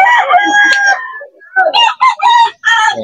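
Roosters crow and chickens cluck at the Bocaue pet market, several overlapping loud calls in quick succession, close by and filling the whole stretch with no talk over them.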